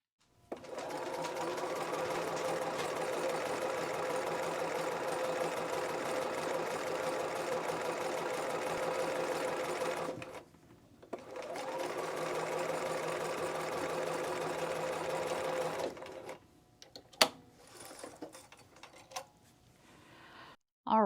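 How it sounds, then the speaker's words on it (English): A sewing machine stitches a 5/8-inch seam on a dress sleeve, running in two steady, close bursts of about ten and six seconds, then stopping for faint handling noises. "I'm going to get this stitched at 5/8 of an inch"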